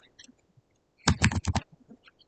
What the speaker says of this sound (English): type in your keyword